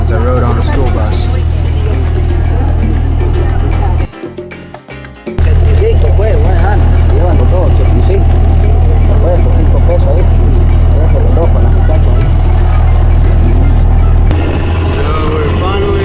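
Old school bus, a chicken bus in Nicaragua, rumbling along the road with a loud low engine drone and road noise, briefly dipping before resuming, with occasional voices under it.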